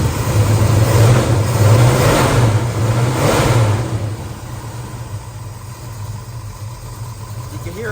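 A 1971 Chevrolet Chevelle with a cold big block Chevy and a big cam runs close by, giving a loud lumpy idle that swells in the first few seconds and then settles lower.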